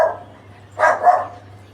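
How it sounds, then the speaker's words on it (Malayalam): A dog at the house next door gives a short bark followed by a couple of quick yelping barks, fairly close and loud against an otherwise quiet outdoor backdrop. "തൊട്ട വീട്ടിലെ നായ ഉറിക്കും."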